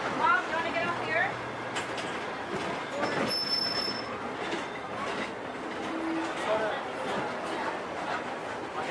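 A Disneyland Railroad train rolls along with a steady rumble, wheel clatter and a brief squeal, while people talk nearby and a station announcement plays.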